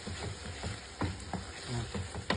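Sweet dried fish (tuyo) gets stirred in a frying pan, with soft sizzling and irregular scraping, clattering strokes of the utensil over a few seconds, close and fairly quiet.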